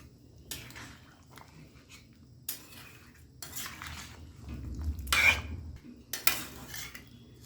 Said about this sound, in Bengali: লবণটা দেওয়ার পর একটুখানি নাড়াচাড়া করে নিয়েছি